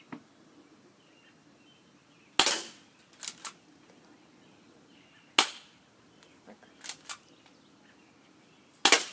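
A Z311 Zombie EZTerminator BB pistol fires three sharp, loud cracks at plastic cups, spaced a few seconds apart, with softer clicks and light impact taps after each shot.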